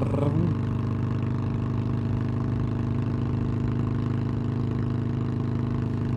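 Close and loud, a Harley-Davidson Forty-Eight motorcycle's V-twin engine runs at steady cruise in third gear, a smooth low rumbling purr with an even pulse and a faint rise in the first half-second.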